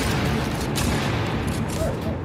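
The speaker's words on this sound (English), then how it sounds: "Oh, they're shooting back." Gunfire from enemies shooting back in the PS4 game Dreams, a dense continuous roar of rapid shots and booms that stays loud throughout, with a voice reacting over it.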